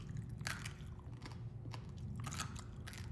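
Someone biting and chewing crunchy purple cabbage fermented for five days, several crisp crunches in an uneven rhythm, close and fairly quiet.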